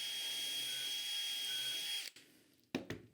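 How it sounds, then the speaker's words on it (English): A power drill bores a dowel hole into a clamped wooden shelf on a JessEm dowel jig, a steady whirring run that stops abruptly, followed by a couple of sharp handling clacks. "clamp it down, drill my next hole"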